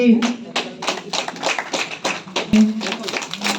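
Audience at a Hindi literary event applauds the launch of a monthly literary bulletin, a steady patter of hand claps from a modest crowd, with a tonal hum running beneath.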